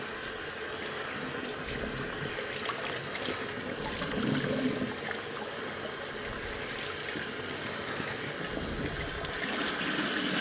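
Tap water runs steadily into a sink while a Hoover Junior U1104 vacuum's fabric outer bag is rinsed, a continuous close splashing flow with slight surges, no voices.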